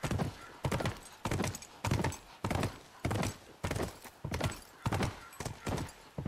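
Horse hooves clip-clop in a steady, regular rhythm in The Last of Us video game, each strike crisp and evenly spaced, moderately close, with no voices over the galloping.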